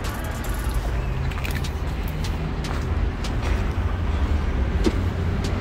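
A 2018 Jeep Grand Cherokee Trackhawk with front-end collision damage idles steadily, a close, constant low engine rumble with no voices.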